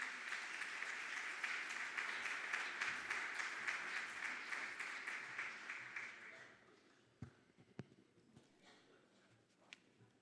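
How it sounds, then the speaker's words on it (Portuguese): A crowd applauds steadily for several seconds at the opening session of a conference in Coimbra, Portugal, then the clapping fades out, leaving a few scattered claps and faint room noise. "Isabel Damasceno, para quem eu peço uma salva de palmas."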